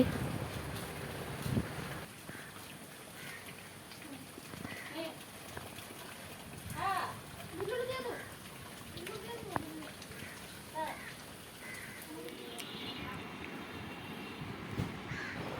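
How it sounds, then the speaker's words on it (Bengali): A wind and rain storm blows as steady broadband rushing and gusting, with voices talking over it throughout. "তুফান বৃষ্টি ঝড় দেখো কিভাবে হয়েছে"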